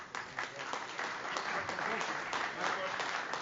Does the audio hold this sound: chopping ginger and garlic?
no